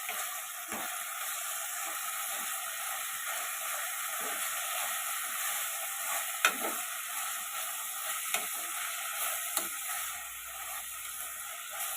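Mutton with fenugreek leaves fries in a pan under a constant hiss and sizzle, broken by repeated scraping and clanking as it is stirred.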